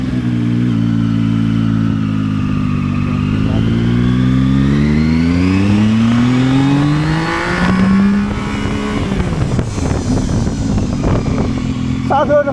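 A Zontes 703F motorcycle of about 700 cc accelerates hard in second gear, its engine note climbing steadily in pitch to high revs, then easing off; a voice speaks briefly over the loud, close engine.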